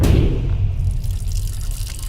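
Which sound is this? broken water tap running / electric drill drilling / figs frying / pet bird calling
broken water tap running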